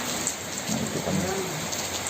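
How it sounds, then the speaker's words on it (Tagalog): Heavy rain pours steadily in Sual, Pangasinan, a dense continuous hiss of drops drumming on surfaces, loud and close with no breaks. "lakas ng ulan"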